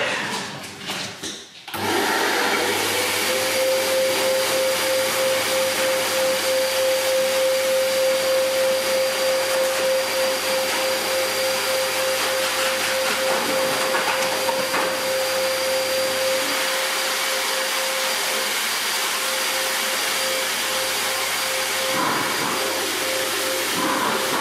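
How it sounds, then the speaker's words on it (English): A Big Boy Blow R Pro vacuum blower runs steadily and loudly at close range in a car detailing workshop, a constant whining roar with a high tonal hum that starts after a brief pause and holds without letup. "we are using a new blower, vacuum blower. This is the Big Boy Blow R Pro"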